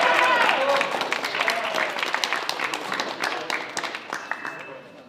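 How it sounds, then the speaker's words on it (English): A round of applause from a crowd at a high school national signing day event, dense clapping that starts loud and gradually thins and fades over several seconds. "let's give one more round of applause."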